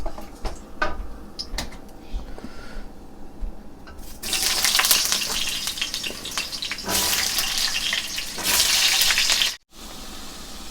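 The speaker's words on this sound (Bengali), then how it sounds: "আমি এখন আলুটা ভেজে তুলে নেব।" Potatoes frying in hot oil for an aloo lau chicken curry give a loud, steady sizzle that swells from about four seconds in, with brief drops, after a quieter stretch of clinks and kitchen noise.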